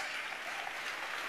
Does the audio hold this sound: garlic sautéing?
no